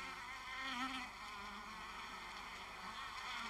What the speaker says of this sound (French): l'entrée de la ruche ou de la ruchette d'observation se transforme en un véritable aéroport où atterrissent et décollent sans arrêt les abeilles butineuses